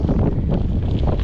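Strong, steady wind buffets the microphone on a hot, sunny day along a New Zealand bike trail, a continuous low roar with gusty swells and no pauses.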